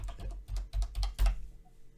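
Typing on a Quartz computer keyboard: a burst of about six or seven close, crisp key clacks in an uneven rhythm, fairly quiet and with no voices, fading to near silence at the end.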